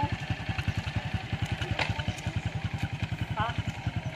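A motorcycle engine labouring at close range, a rapid uneven chugging pulse thumping steadily throughout, with a brief squeal and scattered clatter on top.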